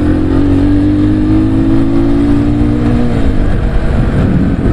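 A motorcycle pulls away and accelerates through car traffic on Avenida Francisco Solano López in Caracas. A loud, close engine tone climbs steadily, then drops as it shifts, with steady road and traffic roar underneath.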